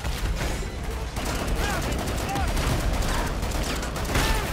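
Grenades going off in Killing Floor 2 gameplay, a dense run of overlapping bursts and rattling gunfire, loud and constant, with game effects layered over it.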